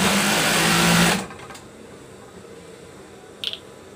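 Sewing machine stitching a duvet cover, a steady loud whir for about a second that then stops, followed by quiet room tone and a short click.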